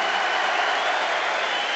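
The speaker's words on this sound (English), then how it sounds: "Mountfield is the player that comes off to rousing applause from the Carlisle United supporters." Carlisle United supporters applauding at Wembley during a 1995 football match as a player comes off, a steady distant crowd-wide clapping that blends into a continuous roar-like wash, heard as through an old radio broadcast.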